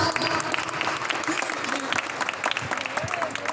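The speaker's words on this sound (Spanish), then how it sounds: "un gran aplauso para la mamá de Maxi" An audience at a taekwondo school ceremony applauds steadily, a dense patter of many hands clapping at moderate distance, with some voices and cheers mixed underneath.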